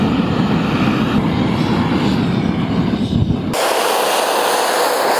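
Propane torch burning outdoors in snow, a steady loud roaring hiss that suddenly shifts to a brighter, thinner rush as the flow changes.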